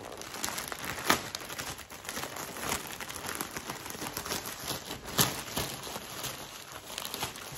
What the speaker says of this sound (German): entschuldigt vorerst mal für die ganzen Raschelgeräusche, aber ich muss das Paket ja irgendwie öffnen.